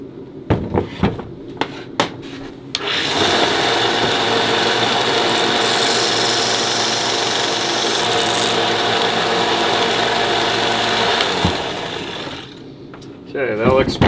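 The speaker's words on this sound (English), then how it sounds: "I'll take this little extra material off with a belt sander." A belt sander grinds extra material off a handmade wooden toy top, a loud steady rasping roar for about nine seconds, framed by brief handling knocks before and after.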